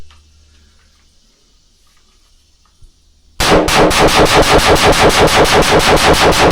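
A 5.56 rifle fitted with a Zer0 and Sons Shaker compensator fires a magazine in daytime: after three seconds of quiet, a loud, rapid, evenly spaced string of about twenty sharp shots rings out with no talk.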